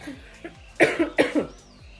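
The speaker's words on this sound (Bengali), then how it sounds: "আর সকালবেলা উঠে আমার প্রচণ্ড কাশি হচ্ছে" A person with a severe morning cough in cold, foggy weather gives one short cough and then a close, loud burst of several harsh coughs in quick succession.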